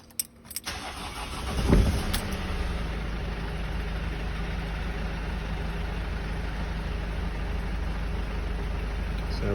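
A 2010 Mercedes Sprinter van's diesel engine cranks briefly and catches after a fuel filter change, then settles into a steady, even idle that runs on close by.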